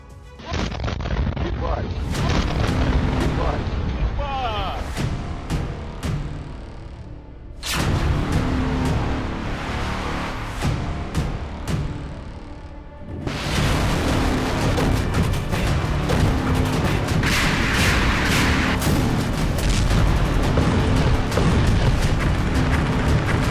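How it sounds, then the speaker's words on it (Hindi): Loud blasts and crashing bursts from drone attacks on Crimea during the Russia–Ukraine war, sustained dense rumbling with repeated sharp impacts, a brief lull near the middle before the roar resumes. "एक धमाका और पूरा इलाका बारूदी कोहराम"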